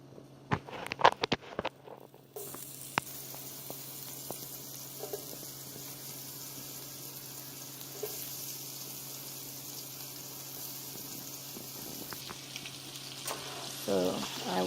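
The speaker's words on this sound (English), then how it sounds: "basically saute it, mix it around some" Tomatoes sautéing in a pot give a steady close sizzle and frying hiss, with clattering stirring at the start and occasional scrapes.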